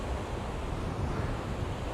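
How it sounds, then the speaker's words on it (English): Strong wind buffets the microphone on a beach at Fuller Street, Cleethorpes, on the UK east coast, a steady loud roar of low rumbling gusts with no voices. "Very windy day down on Fuller Street today."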